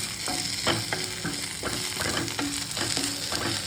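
A spatula stirs spicy garlic brinjal curry frying in a pan over low flame, with steady rhythmic scraping strokes over a constant close sizzle and no voices.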